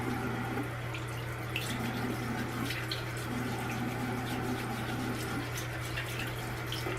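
Tap water runs steadily over a hand holding a Wet n Wild pump makeup product, a close, constant splashing hiss with a faint low hum beneath it.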